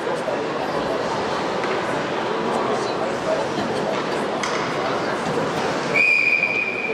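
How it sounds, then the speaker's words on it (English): A referee's whistle sounds sharply near the end of an ice hockey game between college teams, cutting through steady crowd and arena noise with a single sustained blast. "they'll shut this play down for another whistle"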